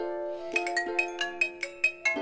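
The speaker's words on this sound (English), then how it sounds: "I don't know why my phone was ringing" A mobile phone ringtone plays nearby as a bright, melodic chime pattern, a quick run of repeated notes over a sustained tone, sounding alone.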